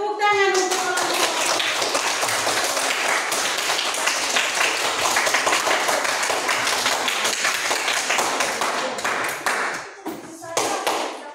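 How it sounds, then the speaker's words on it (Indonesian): Indonesian classroom of eighth-grade students clapping for a group, a lively, dense run of hand claps that thins into scattered claps near the end, with children's voices mixed in. "tepuk tangan untuk kelompok"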